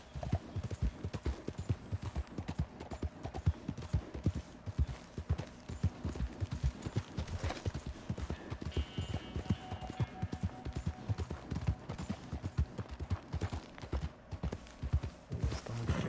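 Horse riding in Red Dead Redemption 2: the rhythmic clip-clop of hooves goes on steadily and close for the whole stretch, with faint ambient game sounds behind it.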